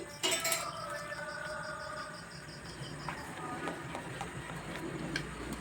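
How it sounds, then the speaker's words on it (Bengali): A spoon clinks and scrapes against a bowl while sugar is stirred into an oil mixture for a rice recipe, with light, rapid taps close by. "ভালোভাবে মিশিয়ে নিচ্ছি"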